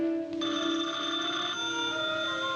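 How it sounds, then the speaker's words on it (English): An old telephone bell rings in a domestic setting, a close, bright, sustained ring that starts abruptly and continues for a couple of seconds with no speech. "Answer the phone."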